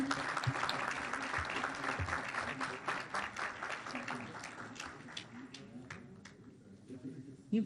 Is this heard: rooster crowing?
no